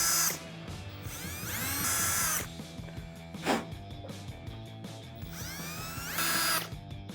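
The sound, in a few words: power drill drilling hole with drill bit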